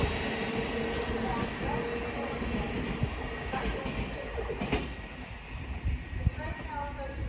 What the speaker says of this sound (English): Here is the 1420 Thameslink service from Horsham to Peterborough, being worked by a class 700